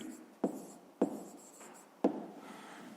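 Three quick pen or chalk strokes while writing a decimal number in a fifth-grade maths exercise, close taps and scratches separated by short pauses, with no one speaking.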